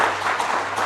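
Dense, steady applause from a seated audience at a water portal launch event fills the hall, many hands clapping together at once.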